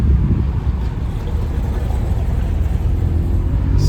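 A carbon-fibre-modified BMW E46 M3 engine runs with a choppy idle, heard as a steady, loud, close drone that blends with road and wind noise for about four seconds, without voices.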